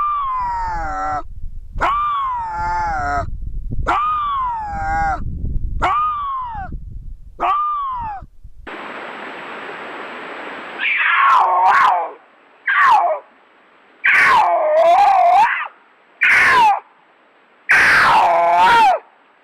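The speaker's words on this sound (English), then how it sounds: "So here's a couple clips of a bobcat screaming and a cougar screaming for" A bobcat gives a series of harsh, rising-falling screams in regular bursts, then after a hiss of noise a cougar lets out longer, louder screeching wails separated by short silences, both calls close and alone.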